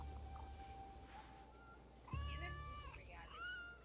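A cat meows inside the video game Assassin's Creed Shadows, a couple of short mewing calls over steady background game sound and music, with a person talking around them.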